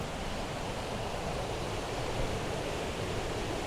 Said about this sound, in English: it makes a cascade down into the river